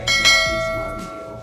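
A notification bell sound effect chimes with two quick, bright strikes close together. A clear ringing tone follows and slowly fades.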